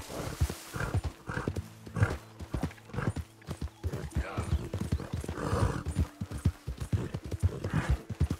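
Horse hooves clip-clop in a steady, even rhythm close by in the video game Red Dead Redemption 2, continuing throughout with faint ambient hum beneath.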